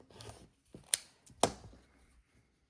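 Scissors rough-cutting quilt block fabric, two crisp snips a half second apart, close and quiet, with faint handling noise around them.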